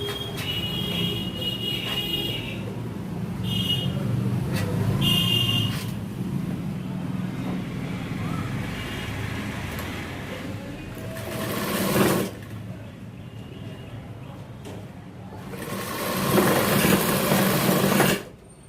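A sewing machine stitches the seam of a 42-inch jacket sleeve in a tailoring shop, running in long, steady bursts with brief pauses and speed changes, close and fairly loud.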